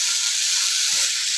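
Spice paste for a Bengali fish curry with lote and tilapia fish sizzling in oil, a steady, close hiss lasting a brief moment with no talk.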